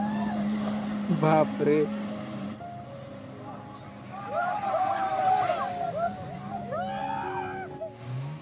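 A motorboat comes in toward a beach at Malvan, its engine rising and falling over wind and water, with people talking and exclaiming nearby throughout.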